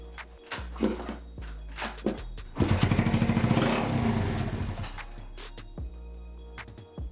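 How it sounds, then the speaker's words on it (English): A Honda CB125 cafe racer motorcycle, tank removed and running on fuel left in the carburettor, starts up after a few clunks. It catches into a rapid, close putter for a couple of seconds, then falters and settles unevenly. "let's just get it fired up"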